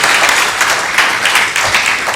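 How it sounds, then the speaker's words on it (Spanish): An audience at a corporate anniversary event in Venezuela applauds, a dense burst of many hands clapping that stays loud and steady for a couple of seconds. "Una vez más vamos a ofrecerle un fuerte aplauso a los amigos del Grupo de Relaciones Industriales de Venezuela"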